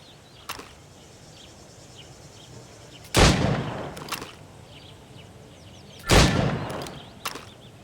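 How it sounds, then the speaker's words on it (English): Gunshots fired at targets in Assassin's Creed Rogue, two loud sharp reports about three seconds apart over quiet ambient background, with a few fainter clicks and taps between. "Go on. Shoot these targets."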